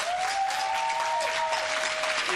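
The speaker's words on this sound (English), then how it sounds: "he deserves applause." Audience applause at a model UN closing ceremony, a continuous even wash of clapping with a thin steady whistle-like tone running through it.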